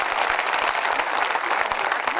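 Audience at a Hindi kavi sammelan poetry recital breaks into dense, energetic clapping that stays steady and loud throughout, with no voices over it.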